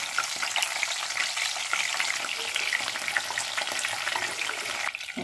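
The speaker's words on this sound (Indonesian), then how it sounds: "Goreng bawang merah dan bawang putihnya." Shallots and garlic fry in hot oil for sambal, giving a dense, close sizzling hiss with fine crackles that continues steadily, dipping briefly near the end, with no voices.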